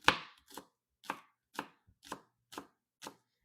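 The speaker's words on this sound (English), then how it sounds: "So we're going to kind of cut these off." Knife chopping through green onions on a cutting board, seven crisp, evenly spaced chops about half a second apart, close and clear with no talk.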